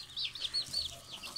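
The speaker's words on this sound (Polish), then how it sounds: "Tu jest chyba kilo kogutów" Short, high clucks and chirps from young roosters and chicks come in quick bursts, fairly faint, with no one talking.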